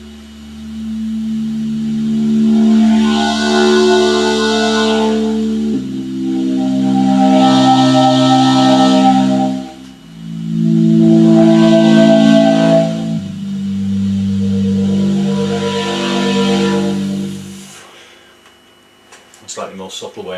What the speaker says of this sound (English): So if I take a fairly standard sort of pad sound but introduce new